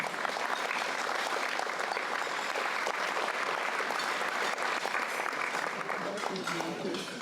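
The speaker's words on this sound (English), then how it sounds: "Big round of applause to Patty." A room full of people at a CBA annual meeting gives a warm round of applause for Patty, a dense, steady wash of clapping that holds evenly for several seconds at moderate distance.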